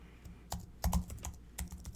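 Password typed on a Mac keyboard, a quiet, uneven run of soft key clicks with a few firmer taps, close by and alone.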